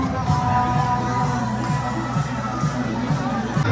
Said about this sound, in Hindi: वाटर पार्क पहुंच तो गए, लेकिन भीड़ कितनी हो रही है यहाँ पर